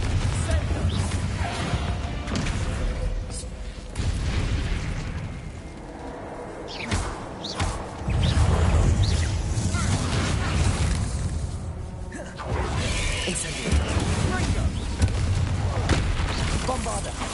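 Repeated Confringo blasting-curse explosions in Hogwarts Legacy, a run of booming crashes and bursts that rise and fall over about seventeen seconds with dense game effects filling the gaps.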